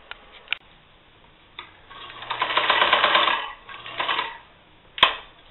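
A sewing machine stitches a down-filled hammock quilt, a close burst of rapid mechanical ticking that swells and fades over a couple of seconds, bracketed by sharp clicks and a brief second run.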